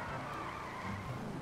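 A sports car's engine roaring in the video game GTA 5, a steady, rough, revving drone held for a second or so, fairly faint and with no talking.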